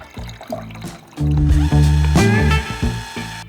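Used black-and-white film developer for Ilford HP5+ is poured back into its container, a close, gurgling liquid pour that swells loudly for about a second and a half, then tapers off.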